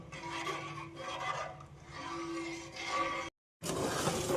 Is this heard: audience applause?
no